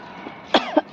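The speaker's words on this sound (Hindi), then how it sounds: "सबके गले खराब, सबको खांसी।" Several short harsh coughs, three quick bursts close to the listener after a moment of quiet room tone, from a person with a sore throat during a change of season.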